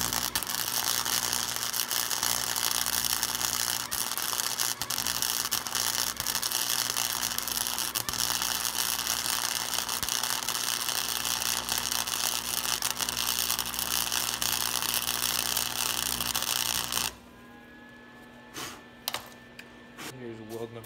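Steel floorboard brackets being welded onto a Yamaha Bolt R-Spec motorcycle, a steady close crackling buzz that runs for about seventeen seconds and then cuts off, leaving faint scattered clicks.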